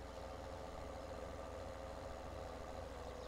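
A tractor engine in the farming game Farming Simulator 2017 drones steadily and faintly as the vehicle drives forward, a constant low rumble with no voices.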